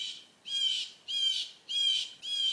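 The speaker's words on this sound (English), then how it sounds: "One bird won't shut the f*** up. That's extremely ear piercing." A single bird squawks loudly and piercingly close by on a morning, in four repeated harsh bursts at a steady rhythm with short quiet gaps between, no other sounds.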